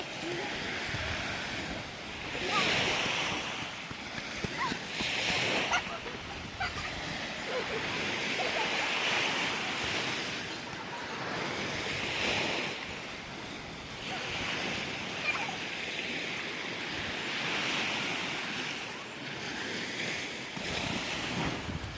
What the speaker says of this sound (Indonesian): Ombak besar sekali.